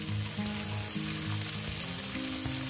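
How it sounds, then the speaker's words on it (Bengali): Potatoes and onions frying together in a pan, a steady close sizzle of hot oil with light stirring, no voices. "আলু পেঁয়াজ একসঙ্গে দিয়ে আমি ভেজে নেব।"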